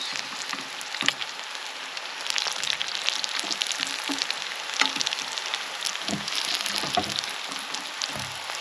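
Crappie fillets sizzle and crackle steadily in hot frying oil as they are flipped, a dense, close hiss with scattered pops and brief bumps from the turning, no talking.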